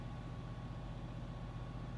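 A Mercedes ML430 engine holds steady at around 2,000 rpm, giving a continuous low, even drone close by with no speech over it.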